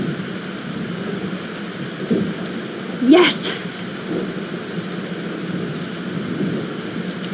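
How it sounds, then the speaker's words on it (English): Thunderstorm with steady rain in the video game Life is Strange, a continuous wash of rainfall with a sharp thunder crack rising around the middle, while a voice briefly exclaims over it. "This storm is real."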